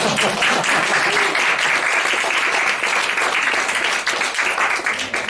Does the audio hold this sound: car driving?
no